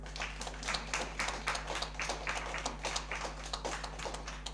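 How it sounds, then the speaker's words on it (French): Scattered hand claps from a small audience at a French medical talk on breast cancer radiotherapy, uneven and moderately close, with a steady low hum underneath. "ça mérite vraiment un applaudissement."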